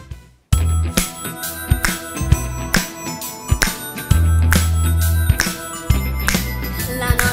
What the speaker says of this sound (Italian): siamo tutti pronti per suonare i campanelli